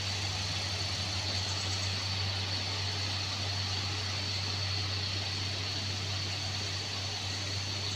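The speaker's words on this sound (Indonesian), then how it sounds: "Nampak Hino ini cukup kuat bosku." A Hino truck labours up the steep Kedabuhan incline, its diesel engine producing a loud, steady, unbroken drone with a strong low hum throughout and no speech.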